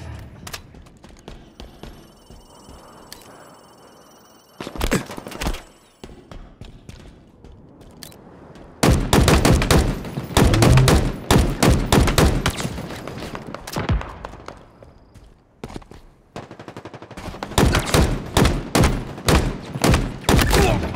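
Machine gun fire in Halo Infinite during a capture-the-flag match on the Behemoth map, with loud rapid bursts separated by quieter gaps and stretches of sustained shooting.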